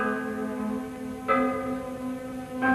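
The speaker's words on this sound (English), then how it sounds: "we have this effect of 2 notes in one bell" An ancient cast bell that sounds two distinct tones, struck twice with a sustained humming ring that decays between strikes, heard alone.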